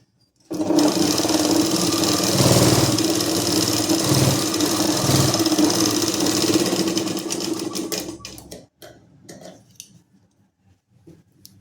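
Sewing machine stitching a double-folded hem on a patiala salwar, a loud steady motorized whir with rapid needle chatter, running close for several seconds before slowing and stopping with a few faint clicks.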